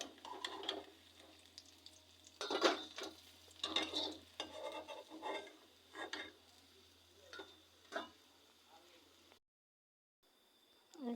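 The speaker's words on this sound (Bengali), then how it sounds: "এবার মাছগুলো আমি নামিয়ে নিচ্ছি।" Fried fish being lifted out of a pan of oil with a spatula during mass cooking, heard as scattered scrapes and metal clatters over a faint sizzle, with a brief silent gap near the end.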